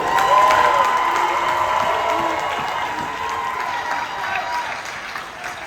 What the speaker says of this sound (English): We clap it up, we clap it up.